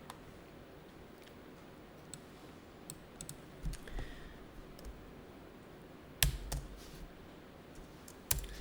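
Keys tapped on a computer keyboard while typing into Notepad, irregular soft clicks close by with a few louder strokes, no voices over them.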